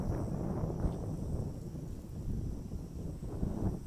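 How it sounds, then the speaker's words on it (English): Steady wind blowing outdoors beside a river, a continuous low rushing roar with gusty buffeting against the microphone throughout. "I don't know if you can hear the wind. The wind is picking up."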